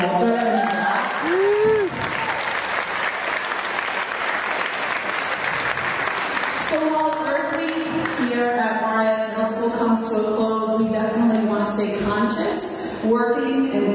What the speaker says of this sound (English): Can you give a round of applause for Mr. Walter?